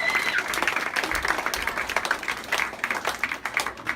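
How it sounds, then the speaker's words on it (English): Applause rises from a church gathering at a Vacation Bible School closing in Pelham, New Hampshire, a lively patter of many clapping hands that swells and dips throughout. "let's give a hand of applause for our Caps in the back there"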